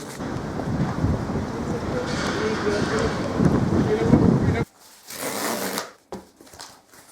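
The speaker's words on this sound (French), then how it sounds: "Il y a un vent de fou incroyable." Powerful gusts of wind roar steadily and loudly across the microphone, then drop away abruptly into quieter, broken bursts of buffeting.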